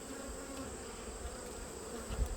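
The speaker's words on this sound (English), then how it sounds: "See, there's another one. Another hornet." A hornet buzzes around beehives, a steady faint insect drone close by with a low rumble underneath, alone without talk.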